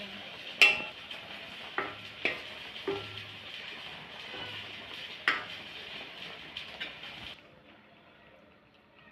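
A spoon stirs and scrapes desiccated coconut roasting in milk in a pan, making a string of sharp clinks and scrapes with a faint sizzle underneath.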